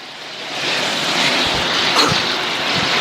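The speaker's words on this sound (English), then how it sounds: "You can hear the engines roar in the background." A broad, roaring engine drone of race cars fills the air, swelling slightly and holding steady, heard from a short distance at a racetrack.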